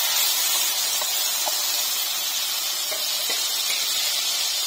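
Onion, green chili, ginger and garlic paste sizzles in hot oil left over from frying eggs, making a steady, loud, close hiss with a few faint crackles and no talking.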